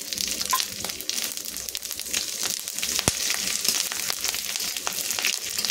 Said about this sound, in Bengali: কড়াইতে দিয়ে দেব প্রথমে শুকনো লঙ্কা, শুকনো লঙ্কাটা একটু ভাজা হয়ে গেলে